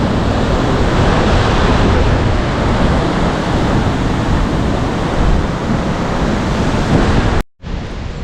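A waterfall on the Valley of Flowers trek roars as heard from a bridge, a loud, constant broadband rush of falling water with some wind buffeting, cut off by a short dropout near the end.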